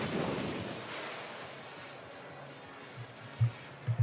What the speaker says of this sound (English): Oh, his Water Spout, actually.